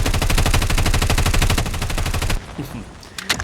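Rapid automatic fire from the MK9 in Call of Duty Mobile, a loud, tightly spaced stream of shots lasting about two seconds before cutting off into quieter game ambience.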